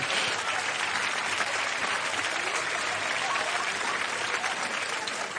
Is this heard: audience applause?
yes